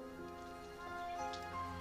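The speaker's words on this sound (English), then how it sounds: "It's hailing." Hail falls in the Roblox game Break In 2 as a faint, steady patter of small ticks over a low, droning game background, with a few slightly louder hits toward the end.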